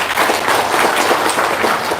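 A crowd applauds at a talk, a dense, continuous patter of many hands clapping at close range for a couple of seconds.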